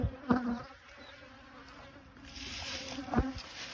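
Honey bees buzz around a garden hive in warm weather while foraging for nectar, a steady mid-level hum with a couple of louder passes as bees fly close, then a brighter swell of buzzing near the end.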